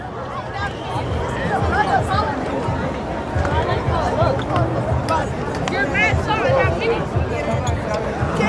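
Dense crowd chatter fills a busy New York City street on a Saturday night, a steady babble of many voices close around with footsteps and scattered louder calls, continuous throughout.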